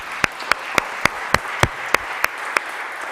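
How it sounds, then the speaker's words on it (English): Slow, spaced claps ring out one at a time at a steady beat, about ten sharp hand claps over a quiet background at an industry and alumni event. "let's give them a big applause"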